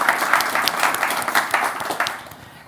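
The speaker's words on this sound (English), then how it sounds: "Let's give her one more round of applause" A conference audience gives a warm round of applause, a dense, steady clatter of many hands that stays fairly loud and then tapers off.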